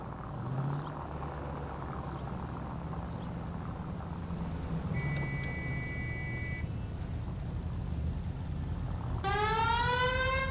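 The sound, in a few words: police siren alarm in video game L.A. Noire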